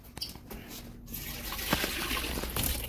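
Water drains off cut alligator meat in a kitchen sink, trickling and splashing unevenly at close range, with a few louder drips and spatters along the way.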